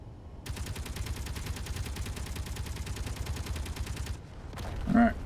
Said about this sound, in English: The Gatling turrets are working.